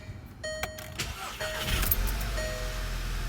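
A 2012 Volkswagen GLI engine cranks and catches after an ignition coil replacement, then settles into a steady, close, fairly loud running hum. It carries no speech.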